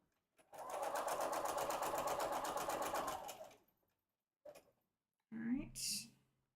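A home sewing machine, said to run loud and need oil, stitches in one continuous buzzing, rattling run of about three seconds, followed by a brief click and then soft nearby voices.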